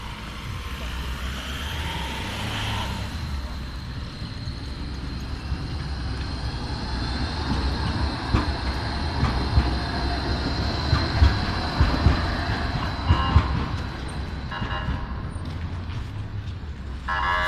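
A tram pulls away and rolls along city rails, a low rumbling drive with a steady tonal whine, rhythmic wheel clicks building through the middle, and faint voices in the background.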